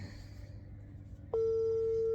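After a stretch of low room murmur, a phone placing a video call from a second handset sounds a sudden, steady, loud tone that continues to the end.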